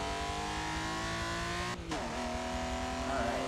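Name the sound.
race car engine downshifting, from video game Forza Motorsport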